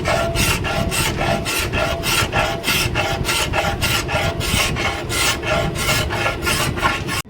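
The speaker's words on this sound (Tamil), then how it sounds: "அந்த கட்டையை எப்படி சுரண்டி எடுக்க வேண்டியது, சுரண்டு ஒரு ஃபுல்லாக மொத்தம் வச்சு சுரண்டி எடுத்து ரெடி பண்ணணும்" A wooden thavil drum shell scraped by hand: steady, rhythmic rasping strokes of about two per second, close and continuous with no pauses.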